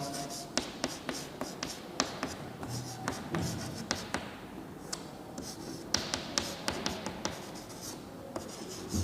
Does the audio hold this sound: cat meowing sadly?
no